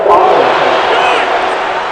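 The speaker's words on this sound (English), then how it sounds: "The crowd's not doing that O-line any favors. Home field advantage is really kicking in" Dense, roaring stadium crowd noise from a Madden NFL 22 game between all-time Green Bay Packers and Cincinnati Bengals, a loud continuous wash of home-field cheering with commentary voices mixed in.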